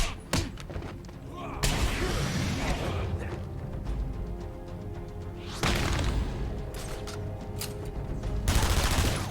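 Gunfire in Batman Arkham Asylum rings out in three loud, heavy bursts spread across the stretch, each followed by rumbling decay over steady game noise and voices.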